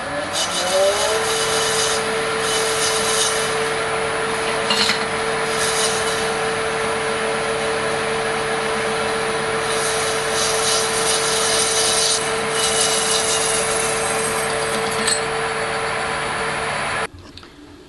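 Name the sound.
lathe parting off a dead blow hammer part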